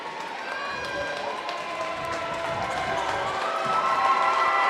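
Crowd noise in a high school volleyball gym before a match between Osage and St. Ansgar, a steady roar of cheering and chatter that swells slightly toward the end, with a voice talking over it.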